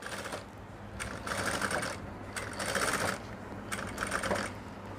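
A sewing machine stitches the sleeve of a garment in three short bursts of fast, rattling mechanical clatter, close and fairly quiet, with brief pauses between runs.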